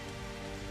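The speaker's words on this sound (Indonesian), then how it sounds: "Jadi dalam musim hujan begini, pasti hujan turun terus." Rain falls steadily during the rainy season, a dense even patter of drops with a constant hiss and no voices.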